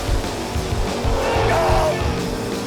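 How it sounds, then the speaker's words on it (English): Drag cars roar and squeal through burnouts before a high-stakes Pinks All Out race, a loud continuous engine and tire rush with a faint voice underneath. "Let's do the burnouts."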